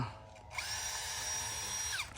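A groundwater well-drilling rig in Chanthaburi, Thailand, bores into the ground with a sustained, loud mechanical whine over a low engine rumble, starting up sharply and winding down after about two seconds.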